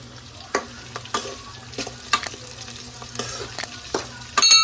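Sliced onions frying in oil with curry leaves and green chillies in a pan, a continuous close sizzle punctuated by repeated sharp spatula scrapes and knocks at irregular intervals, louder clatter at the end.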